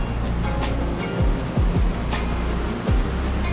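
A stream flowing beneath a footbridge near Hareshaw Linn waterfall, giving a steady, fairly loud rushing wash of water with a few low thumps, as of footsteps on the bridge.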